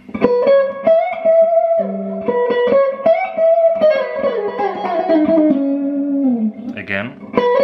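Electric guitar playing the fourth part of a song's solo, a flowing lead line of bends and sustained notes that slides down in pitch, close and clear, with a short vocal sound near the end.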